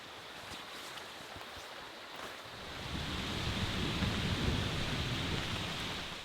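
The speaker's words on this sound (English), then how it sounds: "It's raining, and all we can hope for now is that it doesn't get any harder." Steady rain falling outdoors on a hiking trail at Pictured Rocks, a broad continuous hiss that thickens and grows louder partway through, mixed with some wind noise on the microphone; no one speaks.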